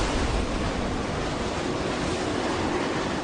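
Ocean waves pound a racing sailing yacht driving straight into heavy seas near the Bass Strait. A constant, loud roar of surf, spray and wind buffets the microphone throughout, with no talk.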